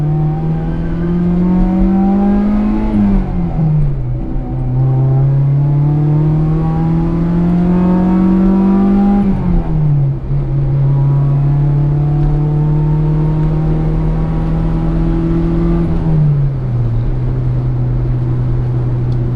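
A 2005 Honda Civic Si EP3 engine revs up close and loud in three rising pulls, each climbing in pitch then dropping sharply at the shift, with a steady drone throughout.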